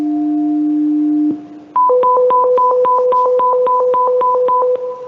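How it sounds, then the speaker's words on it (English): Radio dispatch launch tones for the Portable 55 air medical helicopter: two long steady tones, a short gap, then a fast run of sharp repeated beeps at an even rhythm, loud and clear with no talking. "Launch tones for Portable 55"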